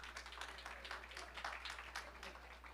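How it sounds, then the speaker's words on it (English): An audience at an entrepreneurial university panel event claps for a speaker, a continuous spread of handclaps at moderate distance, fairly faint, with a low steady hum beneath. "Let's give her a big round of applause"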